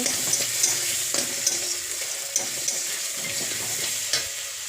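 Turmeric powder is stirred into vegetables frying in a pan for a Bengali mixed-vegetable ghonto, a constant close sizzle broken by repeated spatula scrapes and taps, with no voices.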